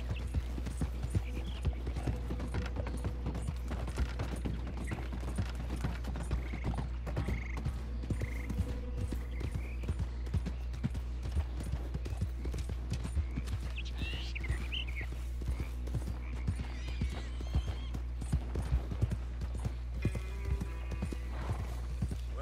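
Steady clip-clopping horse hooves in the Red Dead Redemption 2 video game, a continuous rhythmic trot with occasional whinnies and croaking frogs in a swampy setting.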